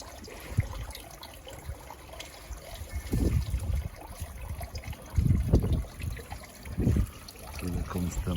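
Small garden pond waterfall trickling steadily near a fish pond, a continuous wet patter with low gusts of wind buffeting in bursts.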